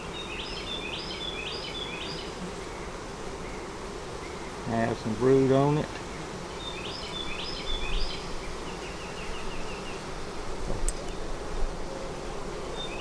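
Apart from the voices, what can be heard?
honey bees buzzing in an open hive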